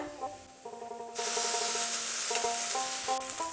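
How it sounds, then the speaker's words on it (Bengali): Wet scraping of ground drumstick (moringa) leaf paste being stirred in a pan, giving way to a loud, steady sizzle of hot oil that continues to the end. "এবারে ভালো করে তেলের সঙ্গে মিশিয়ে নিচ্ছি"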